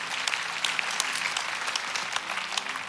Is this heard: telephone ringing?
no